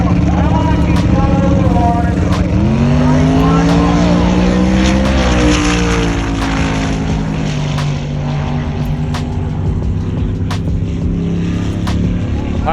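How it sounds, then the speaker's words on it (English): A Camaro makes a quarter-mile drag-strip pass. The loud engine roar climbs in pitch, shifts down, then sustains at high revs, with faint talk underneath. "James just ran his fastest pass he's ever been in his salty Camaro, 789 at 180"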